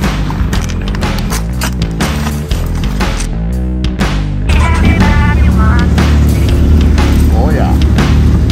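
A Maverick side-by-side UTV drives along a paved road in West Virginia on a brisk morning, its engine droning loudly and climbing in pitch, with a voice talking over it.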